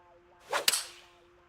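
Golf club striking a ball from light rough in PGA TOUR 2K25, a single crisp swish and thwack peaking sharply once, alone against a faint steady background hum.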